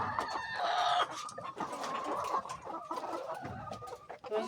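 Laying hens in a coop cluck steadily and close, with overlapping fowl calls and a rooster-like crow rising above the flock for the whole stretch.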